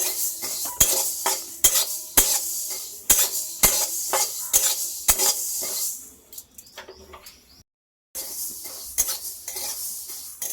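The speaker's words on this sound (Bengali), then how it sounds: "দুটো সর্ষে এখন আমার শুকনো কড়াইয়ে ভেজে নেওয়া হয়ে গেল।" Yellow and black mustard seeds dry-roasting in a dry wok, stirred with a metal spatula that scrapes and clinks in a steady rhythm of sharp strokes, close and fairly loud, easing off near the end after a brief gap.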